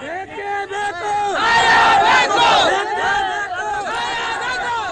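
A rioting mob near the DJ Halli police station in Bengaluru chants Allahu Akbar slogans, many voices shouting in rising and falling unison, loud and close, with swelling crowd noise between the chants.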